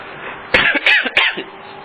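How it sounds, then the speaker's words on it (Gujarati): A person coughs four times in quick succession, close and loud, the harsh bursts bunched together after a moment of quiet room tone. "હવે ભગવાન બોલ્યો પછી 4 વાર ખાંસી ખાધી."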